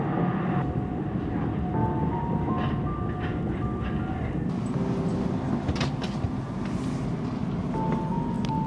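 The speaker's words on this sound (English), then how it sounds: "We took a direct train into Oslo Center." Ride aboard a direct train from Oslo Airport into Oslo city centre, a steady rumbling rail roar with tonal hums and brief clunks, continuous and fairly loud, no talk.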